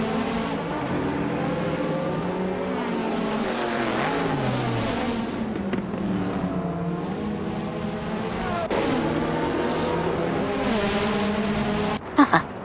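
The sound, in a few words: 1988 McLaren MP4/4 race car at the Nürburgring, video game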